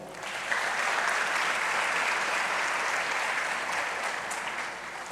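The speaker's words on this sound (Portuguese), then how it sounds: "Vamos dar um aplauso ao Senhor." A church congregation applauds for the Lord during a service, steady dense clapping that fills the room for several seconds with no talking over it.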